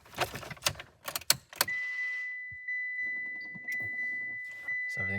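Keys jangle close by in a Mitsubishi Evo X, a few sharp metallic rattles, then the ignition switches on and a steady electronic chime tone rings out with soft clicks and hum beneath.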